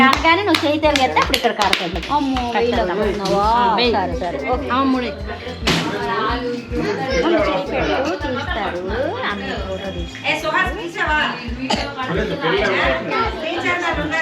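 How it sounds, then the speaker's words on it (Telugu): At a home Rakhi and birthday celebration, a group claps in scattered bursts amid lively overlapping chatter, children's voices and singing. "క్లాప్స్ కొట్టండి, క్లాప్స్ కొట్టండి."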